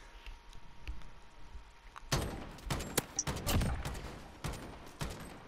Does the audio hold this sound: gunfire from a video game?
yes